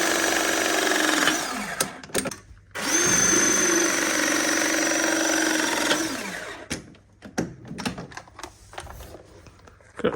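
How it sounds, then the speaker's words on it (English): A battery press fitting gun crimps joints on combi boiler pipework: two sustained whirring motor bursts close by, separated by a brief pause, then scattered clicks, knocks and handling noises as the tool is shifted. "get the press gun in"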